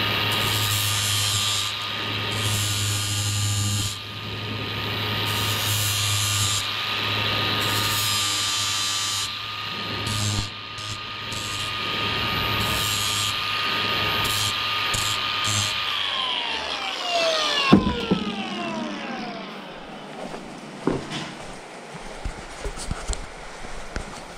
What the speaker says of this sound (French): Donc ici je vais meuler.